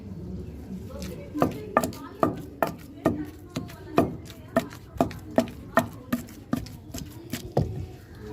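Gongura chutney with onions and garlic being pounded in a mortar, a steady series of about fifteen sharp, evenly spaced thuds, close and fairly loud, with no voice over them.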